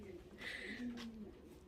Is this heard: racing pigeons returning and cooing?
yes